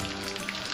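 Cumin seeds sizzle in hot oil over a raised gas flame, with dried red chillies going in for a Bengali raw jackfruit and prawn curry; a close, steady crackling hiss with no talk.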